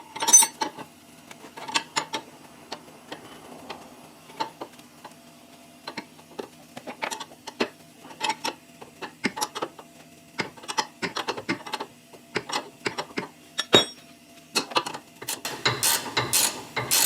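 A ratchet wrench clicks in repeated bursts as it loosens the lower bolt of a front sway bar end link on a 2014 Toyota Sienna, with close, sharp ratcheting separated by short pauses and no talk.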